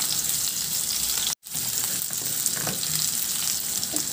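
Chopped onions and garlic sauté in a hot pan for a tilapia dish. The sizzle is loud, continuous and close, with one brief cut in the sound and no talking.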